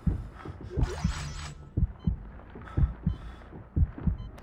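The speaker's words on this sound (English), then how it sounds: "That fast heartbeat's a little unnecessary." A fast heartbeat sound effect from the video game Dead Space 3 thuds in steady paired beats, low and booming, running evenly under a brief burst of other game noise.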